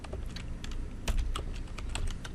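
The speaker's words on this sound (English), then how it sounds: "Let me finish typing here because I can't talk and type at the same time for some reason." Rapid, uneven clicking of keys on a computer keyboard while configuring a router on Debian, close and steady, with a slightly louder cluster of strikes midway and no talking.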